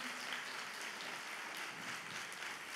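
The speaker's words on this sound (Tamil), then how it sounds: "வாலிப பிள்ளைகளுக்காக நல்லா கைத்தட்டு கொடுங்க பார்க்கலாம் எல்லாருமே." A church congregation claps steadily for the youth, a dense, even wash of many hands filling the whole stretch at a moderate, slightly distant level.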